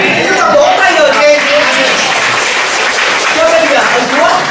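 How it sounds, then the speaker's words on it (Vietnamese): Church congregation applauding loudly and continuously, a dense wash of clapping with cheers and voices rising through it throughout. "Chúng ta vỗ tay người kia."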